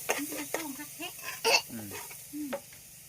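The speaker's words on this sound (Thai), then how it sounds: "ใส่น้ำมันลงไปใส่พริกลงไปกระเทียมลงไป" Chili and garlic fry in oil in an ordinary curry pot over a wood-fired stove, giving short bursts of sizzling and stirring scrapes, close and moderately loud, with a few brief vocal sounds between.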